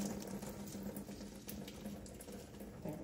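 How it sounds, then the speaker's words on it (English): Water squeezed from twisted cheesecloth while preparing a Vietnamese grilled pork and spring roll recipe, a steady close trickle and patter into a sink running evenly throughout. "twist the cheesecloth in the opposite direction. And there you can see the water coming out"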